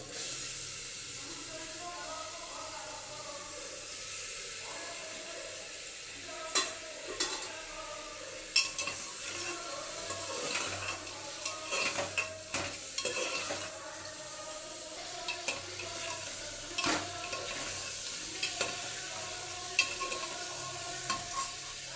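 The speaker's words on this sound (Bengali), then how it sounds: "এবার আমি দিয়ে দিচ্ছি ধুয়ে রাখা চিকেনগুলো" Washed chicken pieces for chicken soup go into a hot pot and fry with a steady hiss and sizzle, while intermittent scraping and stirring knocks from a utensil punctuate the cooking.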